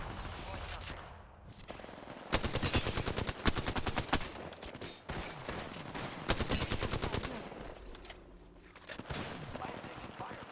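Gunfire in the video game Apex Legends, dense rapid bursts of automatic fire in repeated volleys with short pauses between them, loud and close, voices faintly mixed in.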